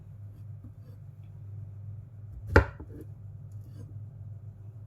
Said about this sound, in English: we're just going to slice it like so, right on the diagonal